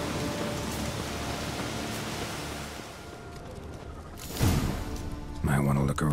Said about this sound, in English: Rains like this come so fine.